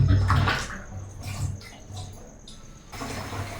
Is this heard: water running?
yes